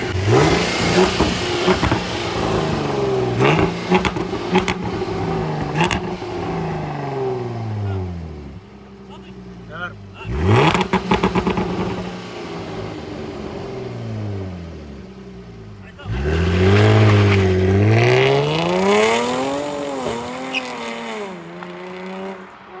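A Jaguar F-Type supercharged V6 engine revs up and down repeatedly, rising and falling in pitch with loud bursts, close by, with faint voices in the background.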